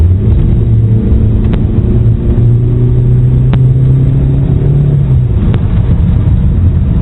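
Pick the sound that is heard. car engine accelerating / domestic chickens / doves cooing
car engine accelerating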